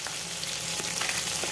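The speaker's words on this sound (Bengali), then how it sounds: "সরিষার তেল দিয়ে দিলাম, কড়াই গরম হয়ে গেছে। তারপরে মাছগুলো ভেজে নেব।" Catla fish sizzling in hot mustard oil in a heated kadai, a steady, close, crackling fry with no talk.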